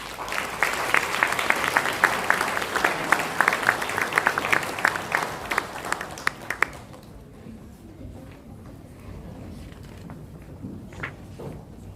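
A church congregation applauds at a deacon ordination service, a dense burst of clapping lasting several seconds before it abruptly stops, followed by quiet room sounds and a few scattered taps.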